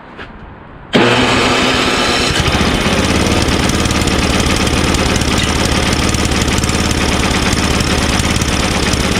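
Tecumseh 5HP engine on an Ariens 524 two-stage snowblower fires up after a short electric-start crank, then runs loud and steady with a rough, chugging rumble close by.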